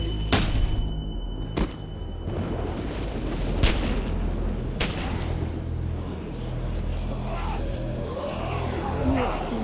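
Gunfire in The Walking Dead, a Telltale zombie video game: several sharp shots crack through a dense, rumbling game soundscape, with a few louder reports spaced irregularly across the scene.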